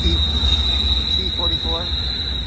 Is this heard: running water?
no